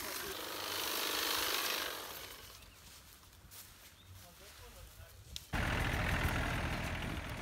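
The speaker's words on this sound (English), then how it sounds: "And that's my brother Will working with the cordless hedge trimmer." Cordless hedge trimmer cutting back thorn bushes outdoors, a rattling motor buzz that swells, eases off, then kicks back in loud and sustained after a sharp snap; someone speaks.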